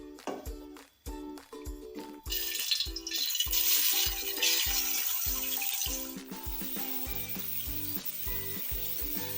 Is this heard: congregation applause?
no